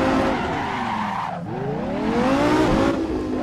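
A car accelerating hard in the racing game Assetto Corsa, its engine note rising and falling with tire squeal, loud and continuous throughout with no talking.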